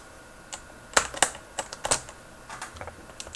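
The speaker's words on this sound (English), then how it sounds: "This is the Topper key switch. It is tactile, non-clicky." Irregular keystrokes on a mechanical keyboard with tactile, non-clicky Topper switches, a close series of crisp, muted taps with no talking.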